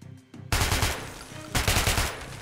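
Two loud pistol shots in Metro: Last Light, about a second apart, each a sharp crack followed by a short, rattling, pulsing tail, after a quiet moment at the start.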